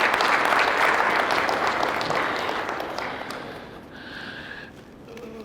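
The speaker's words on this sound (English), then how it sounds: "I think His Excellency deserves a round of applause for that." Audience at an Edo State government event breaks into loud sustained applause, a dense wash of clapping that slowly thins and fades over several seconds.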